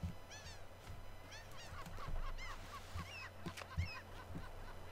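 Seagulls in The Sims 3 give repeated squawking, honking calls in short bursts over a steady low background hum, several birds overlapping at moderate distance.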